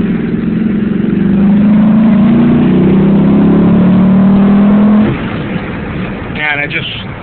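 Pontiac GTO with an automatic transmission and factory suspension, engine droning loud and steady as it gains speed, then easing off near the end, with a short burst of other noise at the close.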